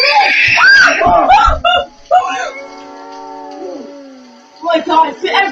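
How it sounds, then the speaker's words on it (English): Several people scream and wail in a frightening scene: shrill overlapping cries at first, then a long sustained quavering wail, and agitated screaming returns near the end, all loud and close. "everybody's fucking screaming!"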